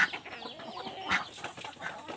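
Hens clucking softly while feeding on a rural Thai farm, with short overlapping clucks and chirps in a busy, moderately quiet outdoor mix.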